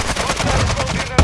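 Rapid automatic gunfire in the video game Warzone 2 rattles loud and close in a dense burst that lasts about a second, without speech.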